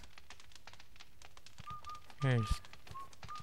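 A ghost in the video game Luigi's Mansion whistles in thin, brief tones amid game effects, including a rising warbling swoop, with a person talking over it.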